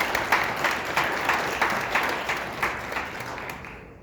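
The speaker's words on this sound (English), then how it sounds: "we give them a round of applause." A room full of people applauds in rhythmic, swelling bursts of clapping that fade gradually, heard at moderate distance with no voices over it.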